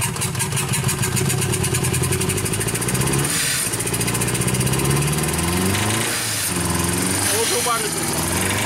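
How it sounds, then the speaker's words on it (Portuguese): A 1995 Fiat Uno 1.0 engine struggles to start, then runs roughly, chugging unevenly at close range as it revs and dips several times. "Novamente, pode dar a partida."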